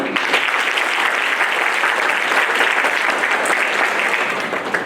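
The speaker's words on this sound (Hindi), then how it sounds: "तालियों में कंजूसी नहीं होनी चाहिए।" A crowd claps continuously at an anti-drug campaign closing ceremony, a dense, loud wash of applause that holds steady for the whole stretch.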